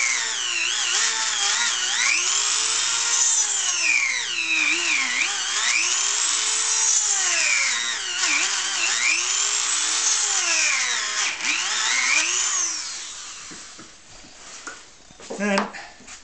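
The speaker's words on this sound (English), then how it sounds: "just mark the holes for the screws, then I can drill them to give me an easy start" A power drill whines up and down in repeated cycles as it bores screw holes into a wooden glue chuck on a lathe, loud and close, then trails off into clatter.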